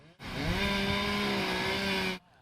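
A chainsaw roars at steady high revs for about two seconds while clearing storm debris, loud and close, starting and stopping abruptly.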